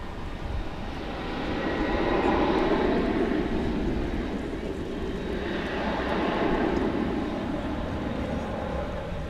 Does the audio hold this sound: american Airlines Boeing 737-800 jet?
yes